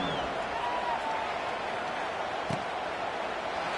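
A stadium crowd in the College Football 26 video game gives a steady, distant roar, like broad applause, through an Oregon versus Minnesota game, with no distinct peaks.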